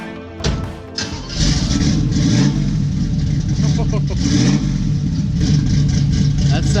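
A 1968 Chevrolet Camaro engine cranks and catches after a brief stutter, then settles into a loud, rough, throbbing idle with a few blips of revving.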